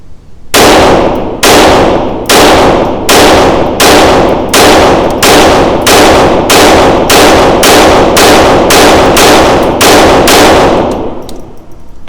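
A Sig P322 pistol fires its first rounds of finicky ammunition: about fifteen sharp, loud, ringing shots in a fast, steady string that ends near eleven seconds, each one close to the microphone.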